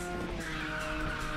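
A car drifting in the racing video game Ridge Racer 6, with a continuous loud tire squeal and skid over the engine roar, steady throughout with no talk.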